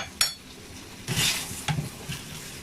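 Spaghetti alla puttanesca tossed in a pan with its sauce and a splash of pasta water: close clinks and scrapes of utensil on pan over a low sizzle, with a few sharper knocks.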